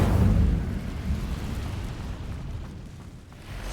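An Incendio fire spell in the Hogwarts Legacy video game erupts with a loud, deep whooshing burst that rolls into a sustained rumbling roar, fading slightly over a few seconds.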